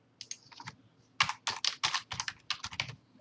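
Bursts of rapid clicking keystrokes on a computer keyboard, close and crisp, with a short pause between runs of typing.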